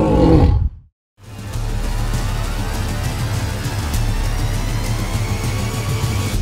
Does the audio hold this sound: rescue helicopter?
no